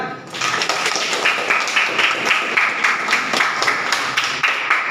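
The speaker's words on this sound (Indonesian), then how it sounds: "Betul, tepuk tangan." Schoolchildren clapping together in a classroom during a religion lesson, a dense, steady patter of many hands close by that runs for several seconds with slight rhythmic pulses.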